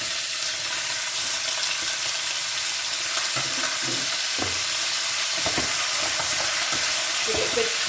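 Pork stir-frying in a pan makes a loud, dense sizzle all the way through, with occasional scraping and clatter from stirring and no talking.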